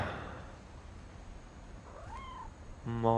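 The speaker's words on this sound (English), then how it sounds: "My old cat." A cat in the video game What Remains of Edith Finch gives a short, fairly faint meow over quiet ambient game sound, followed by a brief tonal swell at the end.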